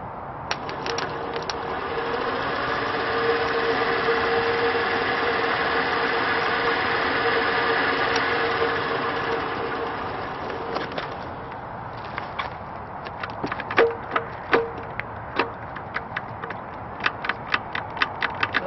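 A forklift motor mounted to its transmission runs in gear, a steady close mechanical drone that fades after about ten seconds and then breaks into irregular knocks and clicks toward the end.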